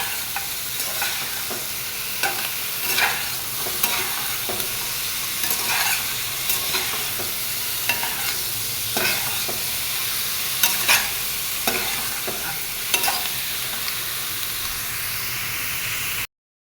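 Chicken and onion fry in a pan with a continuous loud hissing sizzle. Rhythmic spatula scrapes and taps recur throughout, close and prominent, over a long stretch of stirring.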